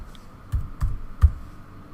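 A few soft keystrokes on a computer keyboard, three distinct taps spaced unevenly in a quiet room.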